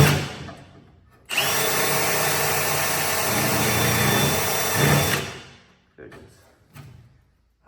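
A power drill spins up and cuts into a metal racecar shell, a loud steady whine held for about four seconds before winding down, followed by a few faint knocks.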